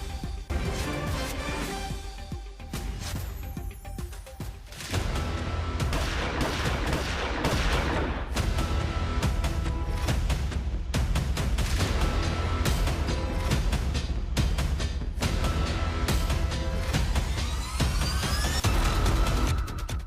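Rapid bursts of gunfire outside a house in Vinod Nagar, East Delhi, at night, crack repeatedly over a dense, noisy background, with sharp shots continuing throughout at fairly steady intensity.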